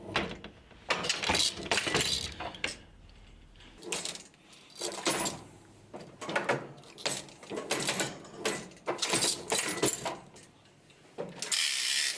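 A pedal-operated knitting machine forms a stitch, giving a series of irregular mechanical clacks and ratcheting knocks, moderately close, with short pauses between bursts.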